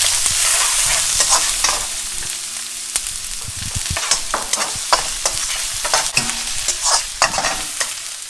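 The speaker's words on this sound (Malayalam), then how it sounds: "അതിലേക്ക് നമ്മൾ ഇഞ്ചിയും വെളുത്തുള്ളിയും ചോപ്പ് ചെയ്ത് വെച്ചിരിക്കുന്ന ഇട്ട് കൊടുക്കുക." Chopped ginger and garlic fry in hot oil for Gobi Manchurian, a loud close sizzle broken by repeated clacking scrapes of a spatula stirring against the pan.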